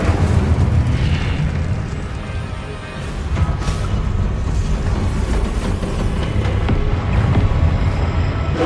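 The Incendio fire spell blasts in Hogwarts Legacy, a loud rumbling roar of flame with bursts and booms that continue steadily, no talking.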